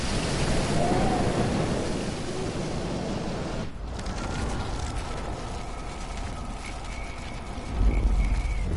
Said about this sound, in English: No more storms.